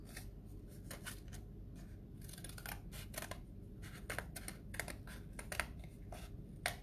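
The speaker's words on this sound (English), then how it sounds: "So I'm just going to cut out the shape of the tree." Scissors snipping out a paper tree shape for a kids' craft, a quiet series of short, crisp cuts in irregular rhythm over a faint steady background hum, close up and without speech.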